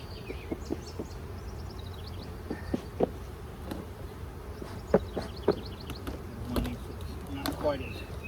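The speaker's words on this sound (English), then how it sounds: "That's a box of bees." Bees hum faintly around an open beehive box while hives are being split, a low steady drone broken by scattered taps and a few distant bird chirps as someone talks nearby.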